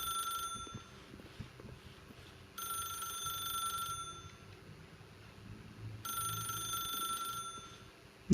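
A telephone rings in the video game The Stanley Parable, sounding two separate bursts of bright electronic ringing over a low, faint room hum, with quiet gaps between them.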